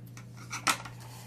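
Washi tape on a planner page is trimmed with a paper trimmer: a few soft scrapes followed by one short, crisp cutting snap, close and quiet.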